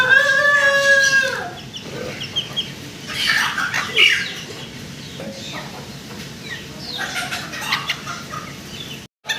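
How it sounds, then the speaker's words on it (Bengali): Fancy breed chickens at a poultry farm, with a rooster crowing loudly up close at the start, then clucking and squawking from several birds through the rest, with faint background voices. "আরও একটা জোড়া আমরা মুরগি দেখতে পারতেছি ভাইয়ের কাছে"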